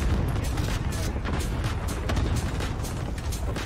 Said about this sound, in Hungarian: Nagyon hangos ez a robbanás itt.